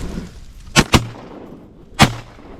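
Shotgun blasts aimed at ducks on Louisiana public land: two quick loud shots close together, then a third after a short pause, each booming and fading over outdoor background noise.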